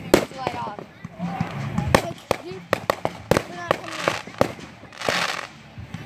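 Sharp firecracker pops and bangs crackle in rapid bursts, some loud and near, while children chatter and shout between them.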